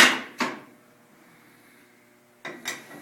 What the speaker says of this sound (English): This is your broiler door for broiling meat,